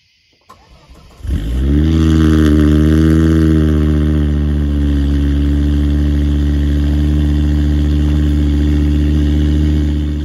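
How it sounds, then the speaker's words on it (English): A car engine cranks and fires on a cold start, then settles into a steady, loud idle with an even low hum that continues for several seconds. "I guess I'm gonna start up the car in a cold start and see if it does anything."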